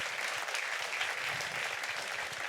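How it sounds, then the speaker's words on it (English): An audience on a Princess Cruises ship applauds a pair of contestants at the Marriage Match game show. The clapping is continuous and even throughout, with no talk over it. "Give the ladies a huge round of applause."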